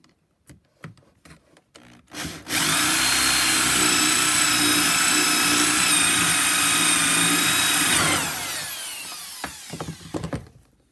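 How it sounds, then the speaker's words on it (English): A 1-inch Forstner bit drills a hole through scrap wood, a loud steady whirring grind lasting about six seconds before winding down, with a few clicks and knocks of handling before and after. "and then I'm going to drill it."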